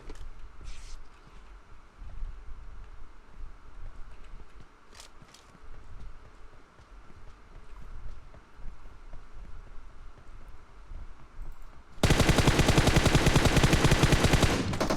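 Gunfire in the mobile game PUBG Mobile, with scattered shots and bursts heard at a distance over low background rumble, then a sudden loud, dense stretch of rapid fire near the end.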